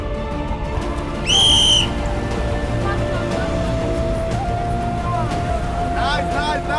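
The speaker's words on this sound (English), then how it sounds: "At the sound of the whistle, the task begins." A loud, shrill referee-style whistle blast lasting under a second starts a team task at an outdoor school adventure event in Kribi, heard over steady crowd chatter and background noise, with cheering voices afterward.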